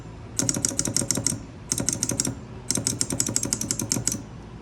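A turning magnetic wheel produces rapid, crisp clicking in three bursts separated by brief pauses, close and fairly loud, with no voices.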